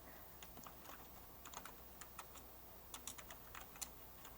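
Computer keyboard typing, close and quiet, with irregular bursts of key clicks and short pauses between them, no voices.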